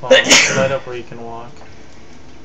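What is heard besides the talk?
sneeze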